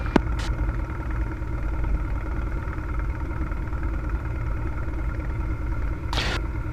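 Steady low rumble of a Cessna's idling piston engine as the plane taxis toward the runway at Shelby County airport, constant and close, with two short bursts of noise early on and near the end.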